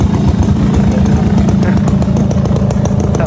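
A Suzuki Bravo motorcycle engine warms up at idle, a steady, close, continuous mid-pitched running note with a faint rhythmic pulse and no noticeable revving.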